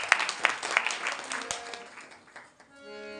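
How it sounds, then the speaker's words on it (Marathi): An audience at a spiritual discourse claps in a burst of applause, loud at first and then tapering off over a few seconds, with a voice and a lingering tone near the end. "क्या बात, टाळी वाजवा यात."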